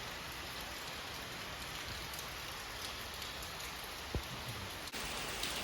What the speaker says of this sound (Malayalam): ഇപ്പോൾ രാത്രി മഴ ഇങ്ങനെ പെയ്തുകൊണ്ടിരിക്കുകയാണ്